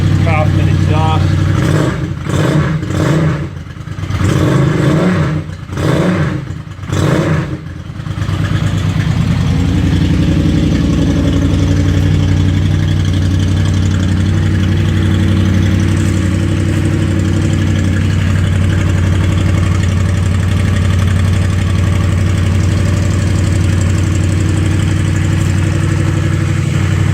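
A Honda VFR800 ratbike motorcycle fitted with a Coffman exhaust, warming up in winter, idles with a steady low rumble after a few sharp revs at the start, heard close up with someone talking briefly over it.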